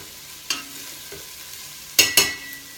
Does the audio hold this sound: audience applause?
no